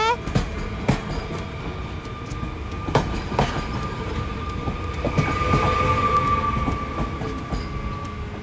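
A departing freight train rumbles and clatters on rails, with a steady metallic whine and occasional clanks, fairly close and continuous throughout.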